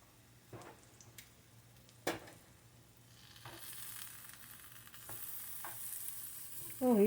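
Eggplant slices frying and browning in a pan while making a garlic tomato sauce, a low steady sizzle with occasional stirring clicks and scrapes, growing slightly louder toward the end.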